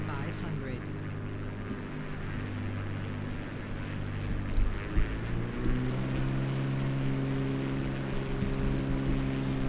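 A small airplane's engine drones steadily and loudly, throttled back as it descends to land on a grass strip near a lake around Helena, Montana, with a constant low hum and slight shifts in pitch midway.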